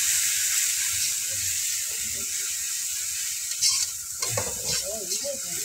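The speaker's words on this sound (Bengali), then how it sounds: "মশলাটা একটু হালকা করে ভেজে নেব।" Spice paste fries in a pan outdoors in a village, a continuous sizzle joined later by scraping stirring strokes and brief indistinct voices near the end.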